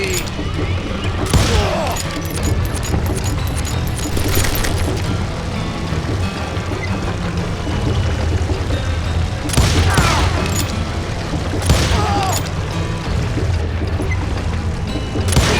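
Gunfire in the Call of Juarez Gunslinger video game, bursts of shots and booms over a dense, busy game soundscape, with bits of voice in the mix.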